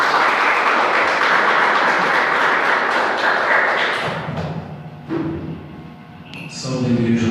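A church congregation applauds together, dense sustained clapping for about four seconds that then fades into scattered claps and quieter room sound.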